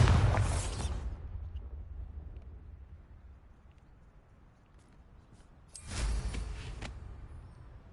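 Bombarda explosion spell cast in Hogwarts Legacy: a loud, close blast that dies away over a second, then after a quiet stretch a second burst of similar force.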